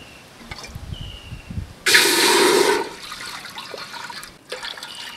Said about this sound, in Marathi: त्याच वाडग्याने मी इथे 2 वाडगे पाणी घालणार आहे यामध्ये